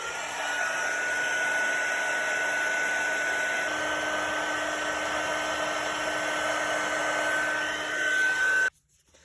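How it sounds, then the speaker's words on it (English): A handheld heat tool blows hot air steadily for embossing a card, a loud, even whirring hiss with a faint whine that runs unbroken for about nine seconds, then cuts off abruptly. "Take your heat tool."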